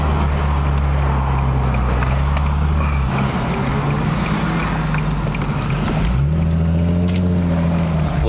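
A 2009 Infiniti G37S with a 7-speed automatic, MXP exhaust, new B-pipes and Berk test pipes drives in sport mode: a loud, deep exhaust drone that dips midway, then swells and climbs in pitch again.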